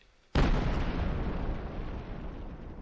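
A single loud cannon boom bursts out suddenly in a video game, then a long rumbling decay fades away, with no talking.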